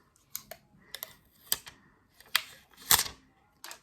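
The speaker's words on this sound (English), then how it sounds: "So I'll just take the plastic off." Crinkly plastic wrapping being peeled off a pink highlighter compact, heard as a series of sharp, close crackles and clicks spaced irregularly, with a louder burst near the end.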